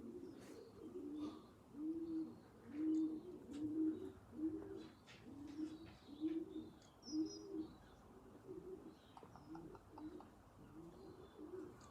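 Wood pigeon cooing outdoors, a steady rhythmic run of soft, low repeated coos, fairly faint and distant, with small bird chirps scattered over it.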